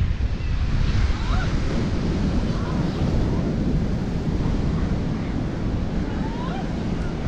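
Ocean waves break on Patnem Beach in Goa, a loud, continuous surf roar mixed with heavy wind buffeting the microphone, with a voice faintly audible at times.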